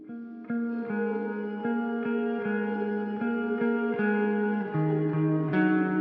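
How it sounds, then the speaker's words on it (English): Sustained electric guitar notes shimmer with lush reverb and trailing echoes, a slow melodic line ringing steadily and washing into a bright, airy tail. "It has this really crazy shimmer reverb and some delay,"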